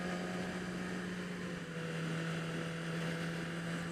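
A Yamaha motorcycle engine runs with the throttle barely opened, a steady, even drone with a strong low hum and no talking over it.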